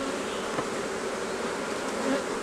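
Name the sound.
honeybees buzzing around an opened hive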